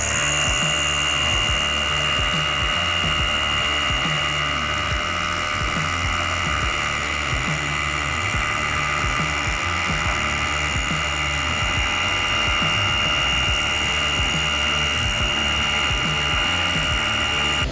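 A Hilti Nuron cordless 22-volt drill spins up and drills, a loud continuous high whine with a rapid pulsing chatter underneath, steady and close for the full length.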